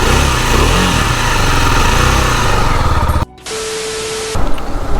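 A 2023 KTM Duke 390 BS6 motorcycle engine runs with a loose, nut-and-bolt-like rattle, a loud, busy mechanical clatter that cuts out briefly before resuming.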